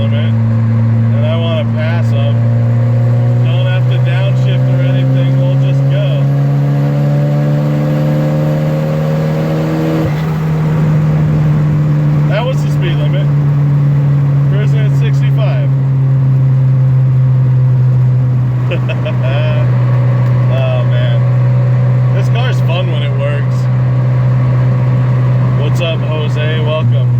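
A big-turbo Volvo car cruises on the freeway with a loud, steady droning engine hum and rising, falling turbo whine, heard from inside the cabin while people talk over it.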